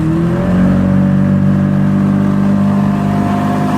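A car engine holds a steady, loud rev at around 2,000 RPM, droning evenly throughout with a constant harmonic hum and no talk over it.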